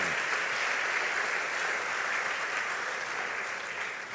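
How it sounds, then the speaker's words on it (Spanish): Steady, dense applause from a congregation at a church conference panel, continuous and fairly loud throughout with no break, fading only slightly at the end. "Un aplauso al Señor por eso."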